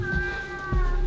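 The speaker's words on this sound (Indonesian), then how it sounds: "Ini sering kucing" A cat meows in a domestic setting, a drawn-out tonal cry that holds steady before a low thump and rustle near the end, close and moderately loud with no talk.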